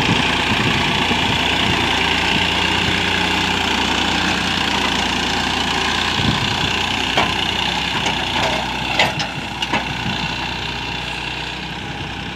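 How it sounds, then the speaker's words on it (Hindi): A Massey Ferguson 9500 tractor idles with a steady, loud diesel rumble while its hydraulic dumper trolley moves in a farm field, the engine note wavering slightly near the end, with no speech. "यदि आप इस गियर को नीचे करेंगे तो आपका जो डंपर है नीचे चला जाएगा।"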